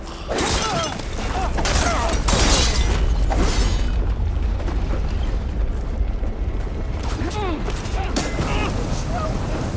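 Gunfire and explosions during combat in the Horizon Forbidden West video game, a dense continuous barrage of booms and shots mixed with game effects and shouted voices throughout.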